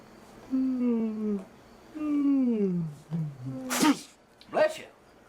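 A person sneezes twice in quick succession, each sneeze preceded by a rising drawn-in breath, close and loud in a quiet room.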